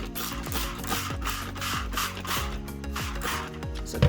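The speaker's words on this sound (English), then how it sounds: "All I need is one of my spray bottles of water." Plain water is spritzed from a hand spray bottle onto watercolor paper during an art class, giving a run of quick, evenly paced hissing pumps of the trigger, fairly close and with no talking.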